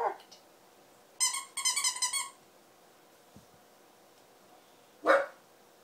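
A hunting-dog puppy barks nearby during a hunting evaluation: a single yelp, then a quick burst of several harmonic barks, a pause, and one more loud bark.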